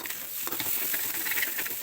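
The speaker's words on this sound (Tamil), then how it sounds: "நல்லா அடி பிடிக்காமல் கிளறி விட்டுக்கலாம்." Minced fish belly frying in oil in a pan while being stirred, a steady dense sizzle with soft scraping and patter throughout, close and without talk.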